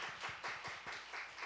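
A church congregation claps together during a worship service, a close, steady run of hand claps with a regular, lively rhythm, heard alone without voices.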